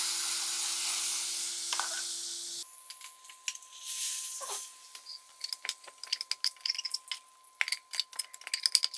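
A steady hiss of mustard seeds frying gives way to bursts of crackling and popping as a wet ground paste hits the hot oil, the spluttering growing sharper and more irregular.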